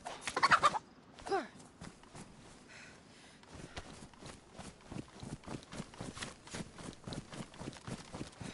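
Chicken clucking in the video game DayZ, a burst of loud calls at the start, then a run of soft, evenly spaced clucks and scratchy pecking sounds close by with no one talking.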